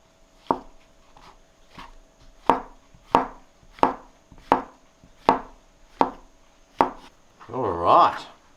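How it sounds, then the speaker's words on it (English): A knife cuts mushrooms into thin slices on a board, making about ten crisp, evenly spaced chops close by. A brief rustle or scrape comes at the end, and no one talks. "we'll start off with the mushrooms. You just want them into like nice little slices"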